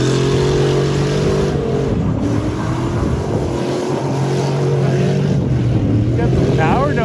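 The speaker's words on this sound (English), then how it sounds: "Got some power donuts going out." A 2020 Ford F150 pickup doing power donuts while dragging a loose bumper, its engine droning loud and close with pitch swelling and dipping as it circles under constant road and tire noise.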